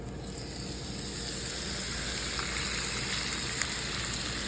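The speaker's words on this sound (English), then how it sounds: "this is what you want to hear when you put a steak on the grill." Flat iron steak sizzling on a grill in oil, a dense steady crackling hiss that builds slightly and holds throughout.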